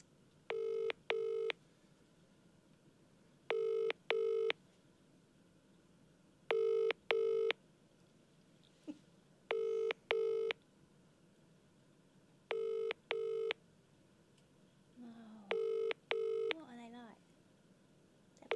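Touch-tone dialing from a phone placed on speaker, giving paired DTMF beeps in regular pairs with short gaps, followed by rising ringback tones near the end; faint room noise sits underneath.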